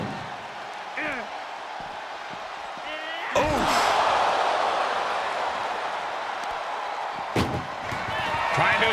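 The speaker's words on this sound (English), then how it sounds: "Trying to at least slam one door shut." In the WWE 2K24 wrestling game, an ambulance door slams shut with a sharp, heavy bang, and a second bang follows a few seconds later. Crowd and arena noise fill the background, with brief grunting voices.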